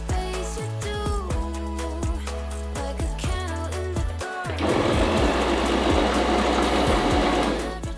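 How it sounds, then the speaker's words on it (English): A sewing machine stitches a sleeve onto a blouse body, first in short rhythmic bursts of needle strokes, then running continuously at a faster, denser pace in the second half. "Now let's stitch the sleeve to the body."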